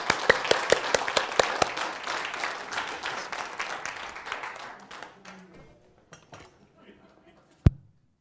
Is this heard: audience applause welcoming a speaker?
yes